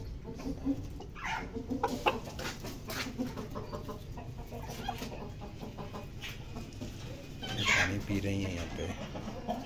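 Aseel chickens cluck and call in an outdoor pen in Karachi, mixed with a few louder squawks, while someone talks over them at a moderate distance.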